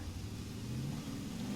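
Ford Ranger Raptor engine in Forza Horizon 4 revving briefly, a faint mid-pitched engine note rising steadily in pitch, with no talk.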